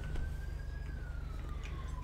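An ambulance siren in the GTA V LSPDFR police game wails steadily with a slowly falling pitch, continuous and moderately distant over a low engine rumble.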